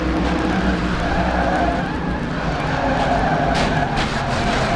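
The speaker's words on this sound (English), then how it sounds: "That is such a violent crash for Nathan Fisher." A race truck crashing at Daytona in a racing game, loud sustained tire skidding and engine roar throughout with a couple of harder impacts toward the end.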